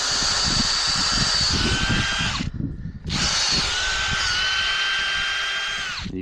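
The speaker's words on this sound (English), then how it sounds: "Just gonna drill way up here." A cordless drill whines loudly up close in two long bursts, pausing briefly between them as the bit bores a tap hole into a maple tree.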